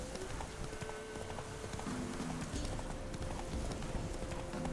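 Horse hooves from The Witcher video game, a steady rapid clip-clop of galloping over a dense, continuous background of game ambience and music.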